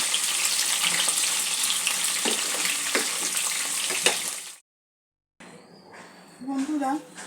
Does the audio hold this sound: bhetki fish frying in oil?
yes